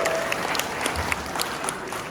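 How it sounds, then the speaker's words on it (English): An audience at a retirement celebration claps in a steady, even patter of applause that stays at moderate volume throughout, with no voices standing out. "That alone deserves a round of applause."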